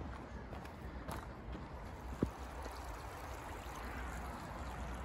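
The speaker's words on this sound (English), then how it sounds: "Back at the brook." A low brook trickles steadily through Anston Stones Wood, faint and continuous with a soft watery hiss, joined by one sharp knock partway through.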